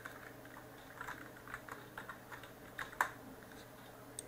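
Quiet keystrokes on a computer keyboard while entering text in Adobe Illustrator, a loose run of soft taps with one sharper click near the end, no voices.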